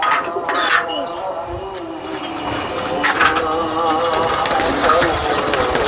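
A prized pigeon coos in a loft among fanciers' birds, soft repeated throaty calls close by with other birds and someone speaking over them.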